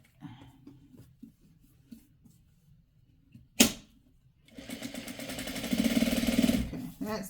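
A sewing machine runs in a steady, fast mechanical stitching burst after a sharp click, stitching fabric for a quilt kit once the bobbin is rethreaded. Quiet talk and handling noises come before it.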